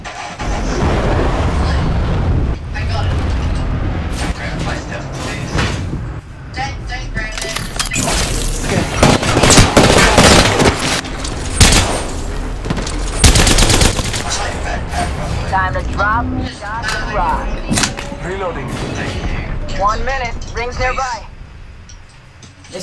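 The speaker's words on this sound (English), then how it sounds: "I'm getting shot." Apex Legends gunfire, with rapid bursts and scattered cracking shots layered over game effects, dense and loud for most of the stretch, while players talk and shout over it.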